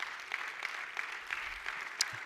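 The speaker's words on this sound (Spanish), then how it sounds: "Démosle palmas al Señor" A church congregation claps together in a quick, even rhythm of sharp strikes, fairly distant and continuous, with one louder clap near the end.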